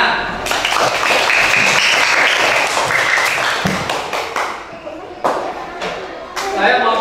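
Schoolchildren in an elementary classroom clap loudly and close, a dense burst of applause that thins into scattered claps and taps before picking up again, with voices mixed in.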